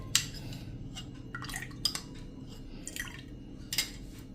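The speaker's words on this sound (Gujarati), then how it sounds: "અને એમાં આપણે 12 જેવો સ્વાદ લેવા માટે આપણે અત્યારે 2 ચમચી જેવો લીંબુનો રસ એડ કરશું" About two spoonfuls of lemon juice dribble into roughly 250 ml of water for dhokla batter, heard as a few light drips and small splashes with faint clinks of a spoon against a vessel in a quiet kitchen.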